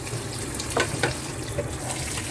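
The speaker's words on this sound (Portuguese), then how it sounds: "Então eu vou enxaguar mais uma vez." Hot water running steadily from a kitchen tap while cow's feet are rinsed for caldo de mocotó, a continuous close splashing hiss with a few faint clinks, no talk.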